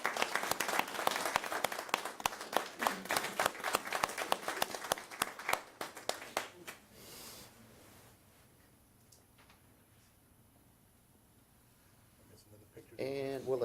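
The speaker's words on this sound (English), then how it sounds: "Let's give Sherry a round of applause." A round of applause in a county commissioners' court, a small group clapping briskly for several seconds before fading into quiet room tone, with a voice returning at the end.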